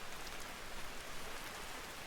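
Steady rain falls in the survival video game Vintage Story, a dense, even hiss of drops that holds at the same moderate level the whole time, with no voices over it.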